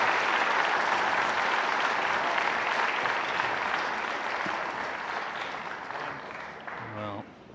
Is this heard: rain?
no